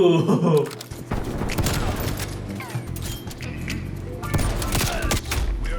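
Rapid bursts of shotgun and other gunfire in Call of Duty: Black Ops Cold War, dense and continuous with explosive cracks, heard over a player's voice and game noise.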